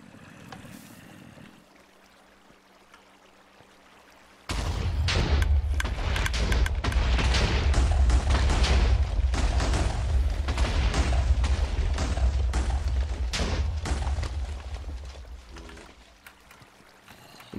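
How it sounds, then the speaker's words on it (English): A large explosion bursts in suddenly after a quiet stretch, then swells into a deep, sustained roar with crackling debris. It lasts about ten seconds before trailing off. "So, without further ado, I give you an explosion of worth."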